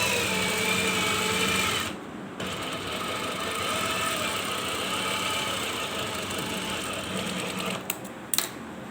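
Close, continuous whir of a sewing machine stitching a two-piece collar along the edge of buckram interfacing, running steadily with a brief pause near two seconds and a couple of small clicks toward the end.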